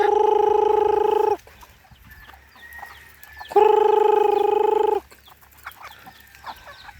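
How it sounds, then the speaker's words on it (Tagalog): Two long, loud, drawn-out calls from a chicken, like a rooster's crow, with quieter clucks and rustling from many chickens in between, close by in a garden in the British Virgin Islands. "Oh, ang daming manok dito, oh."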